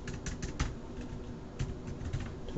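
Keys clatter on a computer keyboard as someone types into a spreadsheet cell, a quick irregular run of light taps, close and fairly soft, over a faint background hiss.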